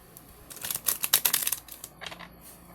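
Tarot cards are shuffled in a quick burst of crisp riffling clicks and flutters, close and fairly quiet, fading out after a couple of seconds.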